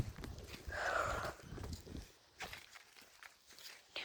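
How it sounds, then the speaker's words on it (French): Soft footsteps of a person galloping and walking with a hobby horse, a brief quick rustling patter followed by scattered lighter steps, faint and close. "pour terminer, je vais juste galoper et marcher"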